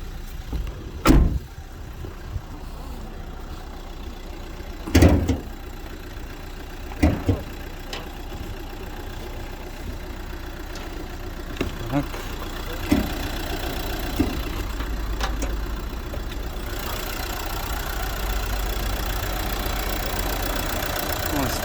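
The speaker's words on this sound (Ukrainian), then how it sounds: "Так працює двигун." A used car's engine idles under its open hood at a Saturday car market in Rivne, with a steady, unwashed, dry-sounding hum. A few sharp knocks or thumps break through close by, and the idle rises slightly near the end.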